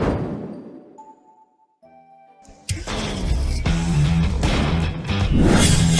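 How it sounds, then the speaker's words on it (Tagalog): A car engine revs loudly as the vehicle pulls up, its roar kicking in suddenly after a quieter lead-in and staying strong and close to the end. "Ito ang kotse mo, boss."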